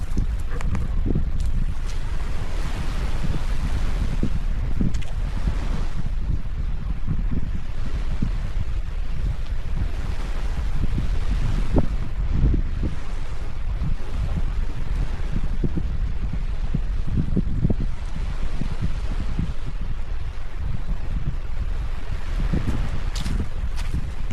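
Steady roar of sea waves washing in at Pak Sui Wun hidden beach, mixed with gusty wind buffeting the microphone, continuous and fairly loud throughout.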